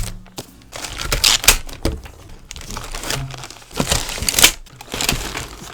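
Books being pulled out of plastic wrapping during a Korean book-haul unboxing, giving bursts of close, fairly loud crinkling and crackling with a few soft thumps, and no talking.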